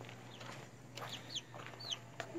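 Chick and hen on a small farm, soft clucking and a few thin high chirps scattered over a steady low background hum, fairly quiet and close.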